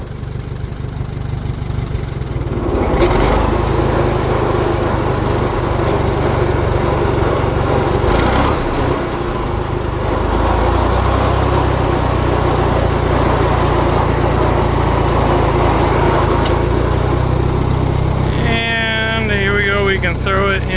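A 1949 J.I. Case LA tractor engine runs in gear, giving a loud, steady, close-up drone that holds through the whole stretch with only slight swells in pitch and level.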